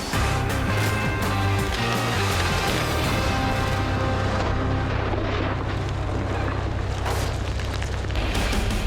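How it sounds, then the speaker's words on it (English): A massive explosion tests a pool of oobleck, a cornstarch and water goo, roaring loud and sustained with heavy low rumble and wind-like buffeting throughout. "It's time to put it to the ultimate test to see if Oobleck is actually bomb-proof."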